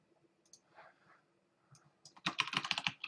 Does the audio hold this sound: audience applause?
no